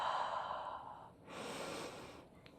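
Deep belly breathing during a gentle beginner morning hatha yoga session: one slow, close inhale flows into a soft, sighing exhale, quiet and unhurried, with no talking.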